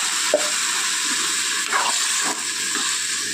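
Water poured into a pan of snail (gugli) curry frying in oil on a home stove, giving a steady broadband sizzle and hiss with a few stirring scrapes and brief bursts, close and continuous without talk.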